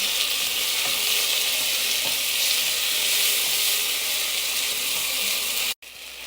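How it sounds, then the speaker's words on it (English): Caterpillars fry in a pan with a steady, close, continuous sizzle and hiss, with faint stirring clicks and a brief dropout near the end; no one speaks. "I'm just gonna use this caterpillar and I'm just gonna put it here to fry"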